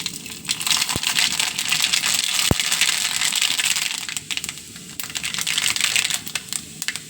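Mustard seeds go into hot coconut oil and sizzle with a dense, continuous crackle, with scattered sharp pops close by.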